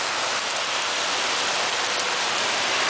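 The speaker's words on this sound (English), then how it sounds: "it's coming down pretty good, because you can see the mist effect on top of that building when the rain's pounding away" Heavy summer rain pounds on a street and a tabletop in Tacoma, Washington, a dense, steady hiss of close, loud drops that never lets up.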